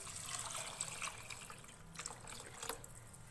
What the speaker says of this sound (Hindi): हम इसके अंदर 3 गिलास पानी ऐड करेंगे।